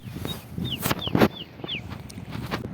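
Several short rising chirps from birds call out over a low murmur of outdoor background noise at the seaside, spaced irregularly and moderately close.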